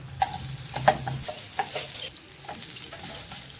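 Moong dosa made from whole green gram cooking in ghee on a pan, giving a faint, steady sizzle with a few light scraping and clinking touches of a utensil, no voices.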